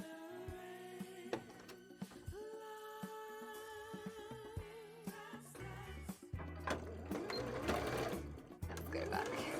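A sewing machine stitching a petticoat, running as a steady close mechanical hum and whir with a brief stop before starting again, heavier and busier in the second half.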